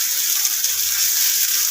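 Garlic and ginger paste frying in hot oil in a wok after chopped onions, a steady bright sizzle with soft stirring, close and continuous, no voices.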